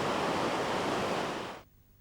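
Broadband ocean surf rushes steadily at moderate level, then cuts off abruptly into near silence.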